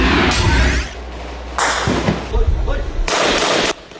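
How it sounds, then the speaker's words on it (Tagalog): Gunfire and blasts ring out during armed clashes in Marawi City, Lanao del Sur, a series of loud bursts and booming thuds with hard onsets and echoing tails, some blurred by broadband noise. "Umaalingaw-ngaw na putukan at mga pagsabog."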